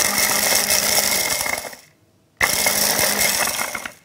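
An electric grinder finely grinds ingredients for whole wheat noodles with perilla oil and shrimp, a loud steady whirring that stops briefly and then starts again.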